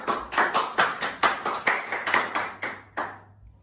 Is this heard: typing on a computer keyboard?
no